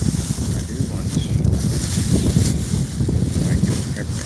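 Strong outdoor wind buffets the microphone throughout, a continuous loud low rumble with gusty surges, with no talking heard.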